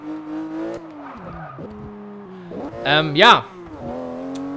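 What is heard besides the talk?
race car driving into pit lane in video game Forza Motorsport 6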